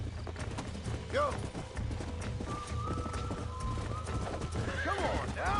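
In Red Dead Redemption, a horse being broken whinnies and neighs repeatedly while its hooves clop and stamp, a loud and close struggle, with a voice talking over the animal.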